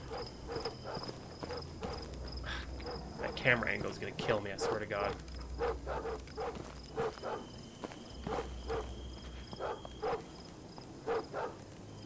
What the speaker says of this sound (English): I hear more fucking dogs.